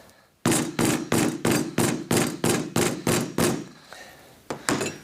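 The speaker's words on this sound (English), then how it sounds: "we're just going to tap it with a hammer just to flatten out some of these ridges" A hammer taps a leather lace nine times to flatten its ridges, in a steady, even rhythm, loud and close, then pauses before two more quick taps.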